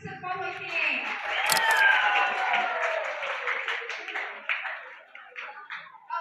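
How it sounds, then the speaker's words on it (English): An audience claps at a school townhall celebration and reward program, scattered applause rising briefly amid amplified talking and background sound. "Can we all clap for your sister for working?"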